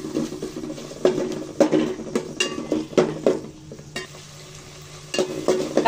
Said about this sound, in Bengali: কাঁচা মশলাটা ভালো করে ভেজে নিব